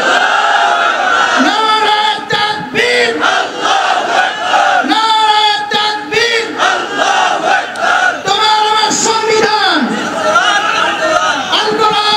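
A large crowd chants in loud unison answering a Takbir call at a Bengali Islamic religious gathering, several sustained rising shouts swelling and fading across the stretch, with a voice leading between them.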